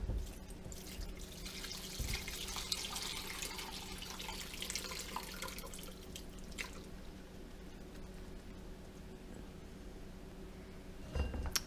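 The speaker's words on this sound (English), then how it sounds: "I might try dumping it now." Homemade chicken stock poured out and draining through a strainer into a sink, a steady watery wash with dripping and a faint clink of cookware, continuous throughout with a brief louder splash near the end.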